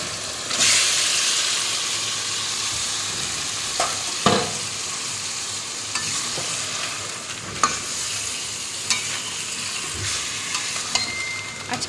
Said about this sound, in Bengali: এবার আমি ম্যারিনেট করে রাখা মাটনটা বা খাসির মাংস সেটা দিয়ে দেবো